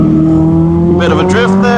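A Caterham SuperSport race car drifts through a corner at Sepang Circuit, its engine droning loud and steady up close while a brief tire squeal rises near the end. A voice talks over the engine.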